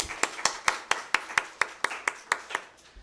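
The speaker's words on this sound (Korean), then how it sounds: "박수!" A church congregation claps in unison during a Sunday service, a strong regular beat of about a dozen crisp, close claps that fades at the end.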